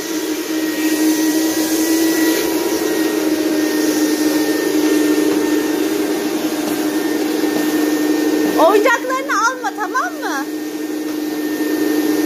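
An electric vacuum cleaner runs continuously while vacuuming a house, a steady loud whine and whoosh throughout, with a voice briefly heard over it near the end.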